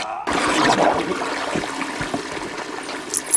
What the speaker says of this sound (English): How about a courtesy flush over there?